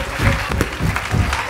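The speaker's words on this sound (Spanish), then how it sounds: "denle un aplauso al Señor Jesús" A brief burst of clapping rises from a church congregation honoring a late pastor, uneven and lively, with louder pulses and a murmur of voices beneath.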